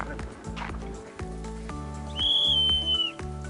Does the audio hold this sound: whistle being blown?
yes